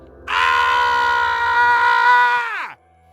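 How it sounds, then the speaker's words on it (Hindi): A man screams as he jumps out of a back window of a fort, one loud, sustained cry lasting over two seconds that ends in a sharp downward fall. "संचित अपनी जगह से उठकर पीछे की खिड़की से चिल्लाता हुआ कूद गया।"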